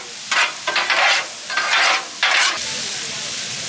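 Green beans and bacon sizzle loudly on a Blackstone griddle, with bursts of stirring and scraping breaking through a steady close frying hiss.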